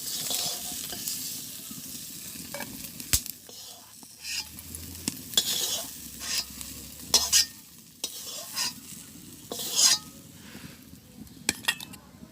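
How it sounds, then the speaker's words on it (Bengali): Shrimp fry in oil in a pan, a constant sizzle broken by frequent scraping and clinking as a utensil stirs against the metal, close up, in a village kitchen. "চিংড়ি মাছটা ভাজি হয়ে গেছে, আমি এখন নামাই নিতেছি।"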